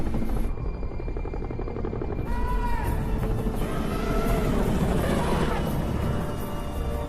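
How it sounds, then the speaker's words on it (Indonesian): A helicopter in the film 2012 thunders steadily overhead, its rotor chop loud and close. Faint voices can be heard underneath. "helikopter Cina yang mengangkut hewan besar terbang di atas mereka."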